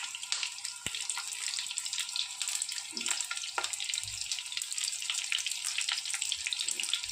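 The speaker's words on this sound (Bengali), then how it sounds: "তেল গরম হয়ে গেছে। এবার আমি পটলগুলো আস্তে আস্তে একটা একটা করে দিয়ে দেব।" Pointed gourds (potol) go into hot oil in a pan, setting off a steady hissing sizzle with a few soft knocks and clinks as pieces are added one by one.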